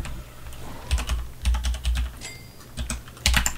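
A password is typed on a computer keyboard in close, irregular bursts of clacking keystrokes with short pauses between groups.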